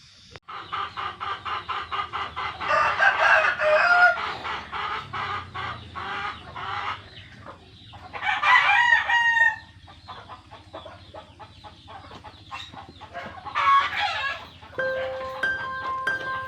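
Crossbred chickens on a poultry farm, dense clucking and cackling from a flock with several loud rooster crows rising over the chatter, close and continuous.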